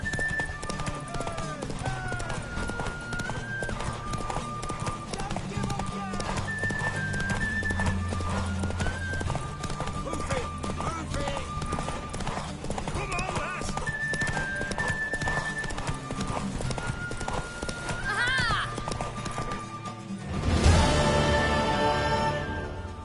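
A horse's hooves clip-clop in a steady, quick rhythm over background music in the video game The Witcher 3, and the horse lets out a loud whinny near the end.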